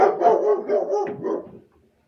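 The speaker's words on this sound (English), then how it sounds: "This fucking dog." A dog barks in a quick run of several close, fairly loud barks over about a second and a half, then falls quiet.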